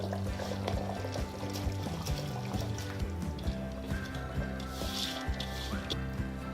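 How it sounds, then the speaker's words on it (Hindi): Soaked rice pours into simmering meat broth in a pot for Afghani pulao, a continuous close liquid pouring and trickling sound with a steady low hum underneath. "और अब मैं इसमें भीगे हुए चावल डाल रही हूँ"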